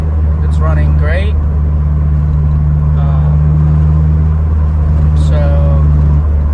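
A Honda S2000's engine drones steadily throughout, a loud continuous hum that holds from start to end, with someone talking over it.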